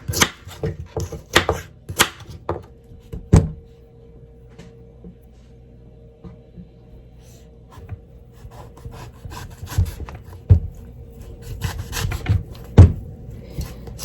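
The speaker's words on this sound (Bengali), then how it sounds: "এগুলো সব কেটে নেব এভাবে। কুচি কুচি করে কেটে নেব।" Ripe mango being finely diced with a knife on a board, a run of sharp close chopping taps at the start and end with a quieter stretch of light cuts between.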